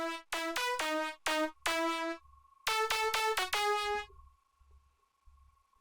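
Future bounce synth lead layer programmed in FL Studio, a bright, buzzy, harmonically rich tone playing short staccato notes in two rhythmic bursts, then one held note fading into a faint tail.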